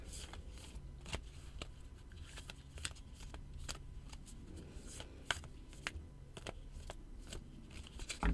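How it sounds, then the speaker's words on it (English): A deck of tarot cards is shuffled in a quiet room, faint crisp riffling snaps and slaps repeating in quick irregular bursts, close up and soft. "Shuffle the deck to release the energy of the reading."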